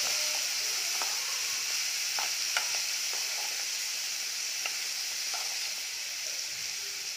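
Boiled chickpeas stir-fry in a pan with spice powders, giving a soft, steady sizzle with scattered light clicks and scrapes of stirring throughout, quiet and without voices.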